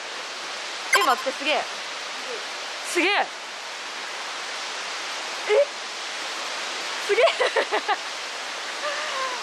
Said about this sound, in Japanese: ちょっと滝が音が聞こえてきた